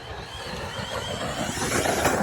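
Tekno ET48 RC motocross truck driving hard over rough ground, a steady buzzing motor with rattling, clattering impacts from the chassis, close and fairly loud throughout.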